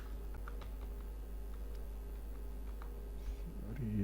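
Soft, scattered keystrokes on a computer keyboard while entering values into a spreadsheet, quiet clicks spread irregularly over a steady background hum.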